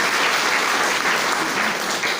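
Loud, dense applause from a gathered audience at a DXN meeting in Sahebganj, Jharkhand, cheering their guru Nitesh, heard as a steady, close wall of clapping with no voices.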